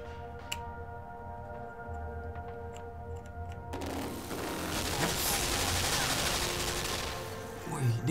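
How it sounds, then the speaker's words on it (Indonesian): Gunfire in the video game Limbo starts as quiet scattered ticks and taps, then breaks into a sustained, rising barrage of shots. "Sekarang ada tembakan, coy."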